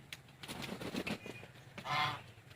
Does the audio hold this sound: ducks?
yes